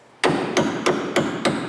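Hammering in a career-training setting: five loud, evenly spaced blows at a steady rhythm, each striking sharply over a continuous background of workshop noise.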